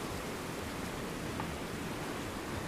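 Steady, dense rain pours at a campsite, a constant broadband hiss with no breaks, close and fairly loud throughout, with no voices.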